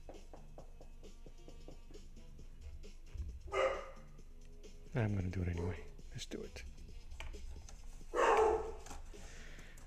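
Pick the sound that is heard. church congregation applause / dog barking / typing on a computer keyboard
dog barking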